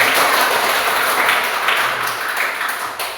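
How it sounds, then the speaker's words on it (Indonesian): Classroom applause for students, a lively burst of many small hands clapping together, loud and close, gradually thinning out near the end. "Berikan tepuk tangan."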